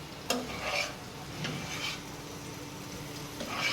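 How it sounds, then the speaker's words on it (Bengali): Onion and green chilies frying in a pan, a soft sizzle with stirring scrapes and a few light utensil knocks against the pan, quiet and close, no speech. "এখন পেঁয়াজ দিয়ে দেবো, পেঁয়াজ আর কাঁচামরিচ"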